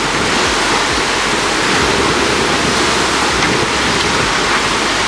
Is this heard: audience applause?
no